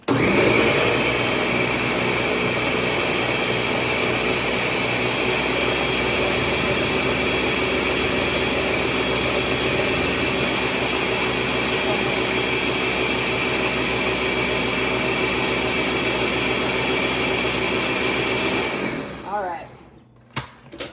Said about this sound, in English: Okay, we're going to blend again.